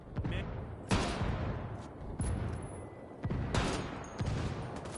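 Bursts of gunfire from the Ghost Recon Ghost War video game arrive in several separate volleys with short pauses between them, loud and sharp against a low rumbling background.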